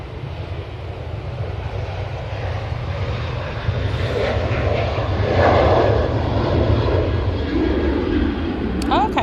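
An airliner departing Manchester gives a loud, sustained jet engine roar that grows slightly stronger midway, with a broad low rumble and hissing wash, and voices talking faintly nearby.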